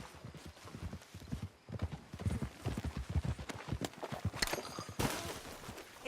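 Horse hooves clip-clop in Red Dead Redemption 2 in an irregular walking rhythm, close and moderately loud, with a brief whinny and some rustling toward the end.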